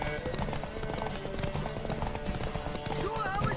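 Rapid hoofbeats from a horse galloping in a race in The Witcher 3, thudding steadily up close beneath voices and other game sounds.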